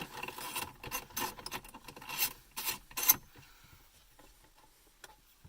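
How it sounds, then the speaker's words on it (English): A T20 Torx bit backing a stuck screw out of the cup holder cover in the console of a W212 Mercedes E63 AMG, close scraping and rasping turns in short bursts that trail off into faint clicks. "So I take my T20 Torx Bit again here, and I will just remove it."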